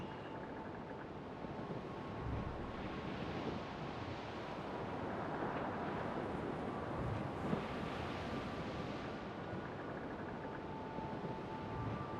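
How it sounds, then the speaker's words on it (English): A rough squall at sea in the video game Assassin's Creed Rogue: a continuous roar of waves and gusting wind, loud and steady throughout, with no voices. "Quite a rough squall, Captain."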